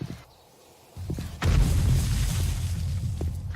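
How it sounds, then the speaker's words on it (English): After a quiet moment, a muffled boom hits, then a louder explosion of mines in the video game 7 Days to Die erupts into a sustained low rumble; no talking. "explosions from the mines?"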